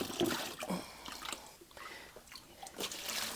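Water scooped and poured onto a loose ore sample to pre-moisten it, giving a few close, brief splashes and trickles with dripping in between.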